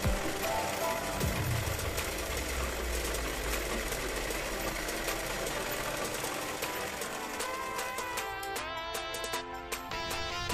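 A sewing machine runs continuously as it stitches a Katori blouse along marked fabric lines, a fast steady mechanical whir close by that slows and stutters near the end.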